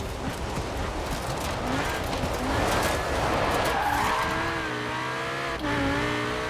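A V10-swapped Audi RS7 S1-class rally car in Forza Horizon 4 skids with loud tire squeal over a roaring engine, the engine then revving upward in rising tones.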